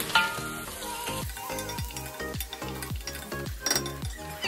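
Garlic, onion and ginger sauté in a hot pan with a steady loud sizzle, stirred with a utensil that scrapes and clinks in a regular rhythm, close and with no talking.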